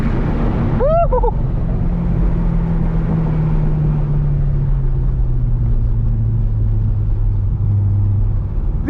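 A stock C6 Corvette Z06 at a drag strip under full throttle gives a loud, close, sustained roar with a steadily shifting engine note, and a brief squeal near the start.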